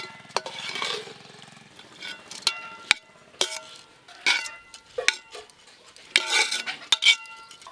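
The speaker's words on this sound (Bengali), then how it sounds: "এবার এই সব কিছু একসঙ্গে খুব ভালো করে মিশিয়ে নেব।" Rice, paneer, chopped tomato and salt are stirred together in a cooking pot for pulao, giving irregular metallic clinks and scrapes of a spoon against the pot, close and fairly sharp, with quiet gaps between strokes.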